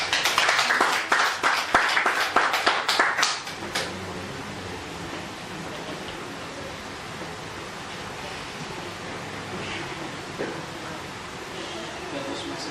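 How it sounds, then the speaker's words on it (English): Audience applause at a Toastmasters club meeting, a burst of clapping from a small room that fades after a few seconds into quiet room noise and murmur. "Applause."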